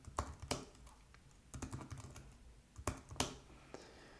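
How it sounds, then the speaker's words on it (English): Keystrokes clatter on an Apple keyboard in short clustered bursts with pauses between, close and fairly quiet, with no talk. "Maybe I shouldn't use an Apple keyboard."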